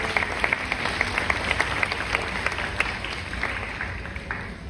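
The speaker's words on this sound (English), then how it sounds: "let's round of applause" Audience applause welcomes a glassmaking team to the stage at a museum of glass. A crowd claps steadily at moderate distance, with a dense, even texture throughout.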